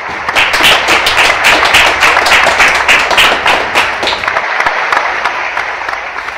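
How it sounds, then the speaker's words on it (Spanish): Loud, sustained applause from an audience for a tango quintet performing a Piazzolla tribute, dense clapping without pause that thins slightly toward the end. "un aplauso fuerte para el quinteto Quito Hora Cero"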